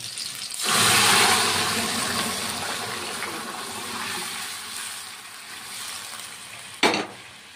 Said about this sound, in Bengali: এখন আমি প্রেসার থেকে ডালগুলি ঢেলে দিচ্ছি